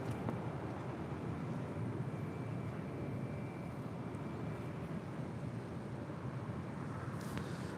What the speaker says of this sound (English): And that is United Airlines Flight 99 coming in from Melbourne on the 787-9 Dreamliner.